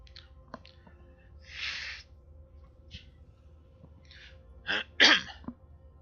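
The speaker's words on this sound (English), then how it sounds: "Pardon me while I blow my nose." A few short, breathy bursts of nose blowing, the loudest two close together near the end, with quiet pauses between.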